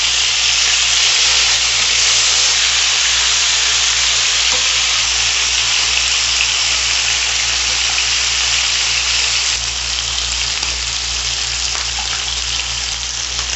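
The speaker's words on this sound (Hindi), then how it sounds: "अब हम इसमें अपनी सारी मटन की बोटियां डाल देंगे।" Mutton pieces fry in very hot oil with a loud, dense, steady sizzle, close up and constant throughout, and no talking over it.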